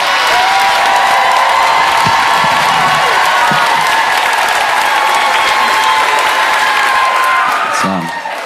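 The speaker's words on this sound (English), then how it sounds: "Start clapping right now for the incomparable Josh Johnson!" A comedy show audience greets comedian Josh Johnson with loud, dense applause and cheering, a steady roar of clapping and whoops that holds for several seconds before fading at the end.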